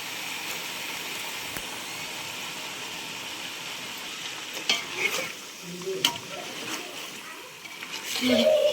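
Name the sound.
ground masala paste frying and being stirred in a pan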